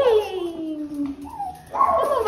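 A dog whimpers and whines in drawn-out, falling then rising cries, close by, during a moving day at home.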